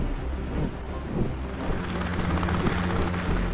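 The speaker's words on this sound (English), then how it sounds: "a helicopter shoots over my head" A helicopter roars past close overhead, its rotor chop thudding steadily amid buffeting wind noise on the microphone, loud and continuous with no talk.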